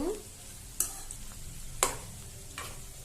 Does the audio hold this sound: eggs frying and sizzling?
yes